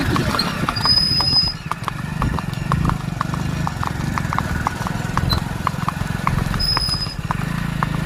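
Horses' hooves clip-clop in a steady, fairly close rhythm over a low background rumble, with a brief high whistle-like tone appearing twice.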